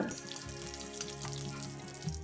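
Mustard seeds splutter in hot coconut oil in a kadai, a faint, continuous crackle and sizzle with scattered tiny pops.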